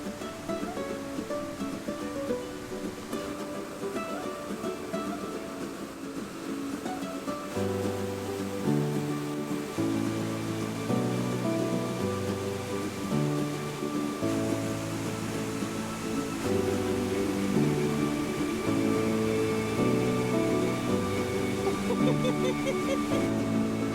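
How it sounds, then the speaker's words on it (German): A forest stream in Sweden rushes with a steady, broad hiss of flowing water throughout, partly covered by melodic background music that grows fuller midway. "dadurch, dass hier das Wasserrauschen ist"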